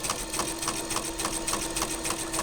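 Sewing machine stitching vinyl for a ramen-noodle coin purse, a steady rapid whirring hum with regular needle clicks in an even rhythm, close and alone.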